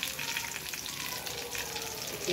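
Eggplant slices coated in rice flour fry in hot oil, producing a soft, even, bubbling crackle that holds steady at a moderate distance with no voices.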